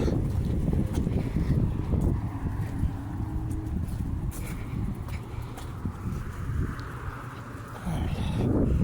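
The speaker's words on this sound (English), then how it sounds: "Wind's starting to blow." Wind blows outdoors in gusty, rumbling buffets across the microphone, a steady low roar with a few lighter rustling gusts, no talking heard.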